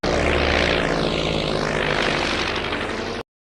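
A propeller airplane roars loudly overhead, its broad engine drone sweeping in pitch as it passes close by, then cutting off abruptly at the end.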